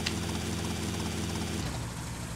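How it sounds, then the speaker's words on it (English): A helicopter in GTA Vice City, its rotor and engine thrumming loudly and steadily up close, the pitch dropping slightly as it settles. "Let's just leave our helicopter by the pool."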